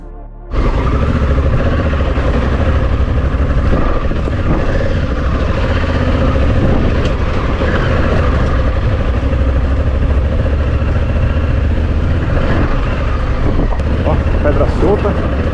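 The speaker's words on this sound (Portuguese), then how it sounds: "Se você vem embalado, a moto passa tranquilo" Motorcycle riding over a loose-rock trail in Serra da Bocaina park, the engine a steady continuous drone with rumbling rattle from the stones, loud and close throughout.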